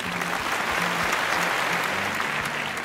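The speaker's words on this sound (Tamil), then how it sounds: "அதுக்காக அவங்களுக்கு ஒரு பெரிய கைத்தட்டல் கொடுக்கலாம்." An audience claps steadily and loudly throughout a televised homemaker contest event, a dense, even wash of applause with no pauses and no voices.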